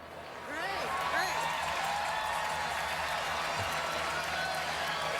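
Crowd at the 2014 Kentucky Derby applauding after the Riders Up call, a broad, steady wash of distant clapping and cheering that swells and holds, with a voice heard briefly at the start.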